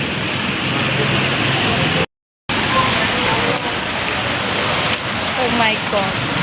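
Heavy rain pours steadily on surfaces, a dense continuous wash that cuts out briefly partway through, with faint voices underneath.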